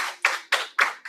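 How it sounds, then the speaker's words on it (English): Sharp rhythmic hand claps at a Toastmasters club meeting, several distinct bursts about a quarter second apart, fairly close and alone without talk. "Please give her a round of applause."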